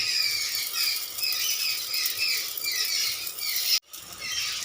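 Semolina pitha cakes fry gently in hot white oil on a pan over a medium flame, giving a steady crackling sizzle with a brief break near the end.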